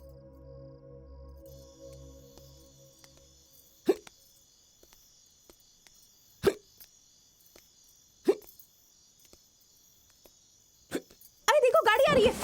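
A person hiccups four times at irregular intervals, each a sharp, short gulp standing out against a quiet night backdrop with a faint insect drone, before a louder burst of sound comes in at the end.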